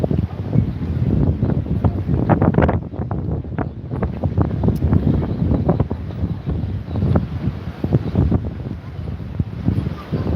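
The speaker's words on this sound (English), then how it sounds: "Can you still hear me, despite this wind?" Strong outdoor wind buffets the microphone with continuous low rumble and gusting roar throughout, on a mild day in Benidorm.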